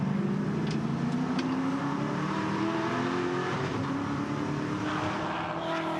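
A loud V8 ute race car engine roars steadily during a race at Symmons Plains, its pitch climbing as it accelerates, a close and continuous high-revving drone.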